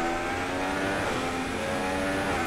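An F1 race car's engine in F1 2016 during the Russian Grand Prix at Sochi, a loud, close, steady high-pitched whine that holds and slightly builds throughout, with no talk.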